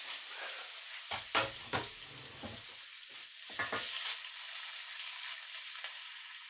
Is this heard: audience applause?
no